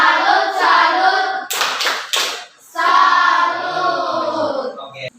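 A group gives a rhythmic salute clap at the close of a classroom group presentation: three bursts of sharp, loud clapping in a quick pattern, followed by a voice speaking.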